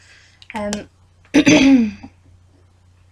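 A person coughs and clears their throat twice, close and loud, with a short pause between and quiet afterward.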